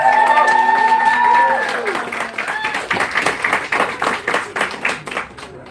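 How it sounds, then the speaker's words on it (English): An audience at an arts platform evening bursts into a round of applause, building after a spoken introduction fades, then continuing as loose, uneven clapping with individual claps standing out. "Very good applauding, well done."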